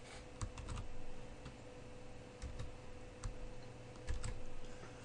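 Rapid typing on a computer keyboard, irregular clusters of light key clicks close to the microphone over a steady electrical hum, with no voices.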